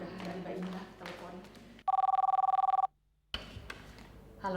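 A telephone rings once with a steady electronic trill for about a second, loud and close, between stretches of people talking in a television drama scene.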